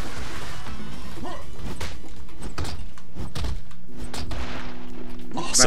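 Hammer blows smashing enemies in a combat video game, a run of heavy thuds and crashes with whooshes over busy game sound, under ongoing talk.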